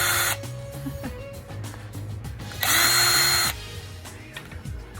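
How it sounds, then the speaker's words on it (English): A powerful electric wrench unscrewing tiny screws from a vintage hard drive being scrapped: short whirring motor bursts, one brief loud high-pitched run in the middle, separated by clicks and handling noises, with no talking. "I probably don't need such a powerful wrench."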